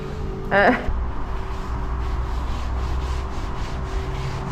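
Steady rubbing and scrubbing on the hull of a 58ft narrowboat in dry dock, wiping it down with turpentine; a continuous close abrasive swish broken by a brief voice near the start.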